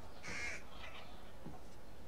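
A single harsh crow caw rings out in the video game Thief, followed by a softer second call over a faint steady background hiss.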